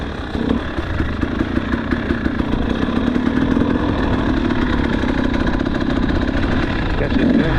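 Enduro motorcycle on a wet hill climb held wide open in third gear, a loud, sustained buzzing engine roar at steady high revs, close and continuous.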